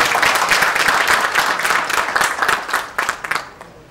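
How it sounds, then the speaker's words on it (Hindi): Applause from a Bank of Baroda audience in the Chandigarh zone for the bank's customers, a dense wash of clapping that holds steady, then thins into scattered claps and fades out. "इन्हां लई सब तो जोरदार तालियां होनी चाहिए"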